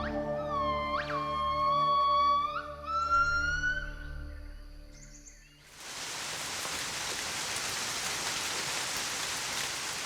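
Steady broadband rain falls during the rainy season at an outdoor primate sanctuary, starting abruptly about halfway in and continuing evenly to the end; a tonal siren-like wail with harmonics sounds before it.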